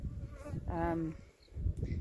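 Honeybees at a hive give off a low, steady buzzing drone, fairly faint, with a short voiced sound rising briefly in the middle.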